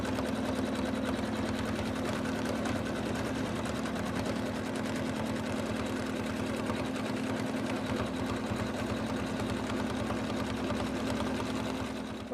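An embroidery machine stitching the next colour on an in-the-hoop snowman stocking, a rapid, steady mechanical needle chatter with a constant motor hum, close and uninterrupted throughout.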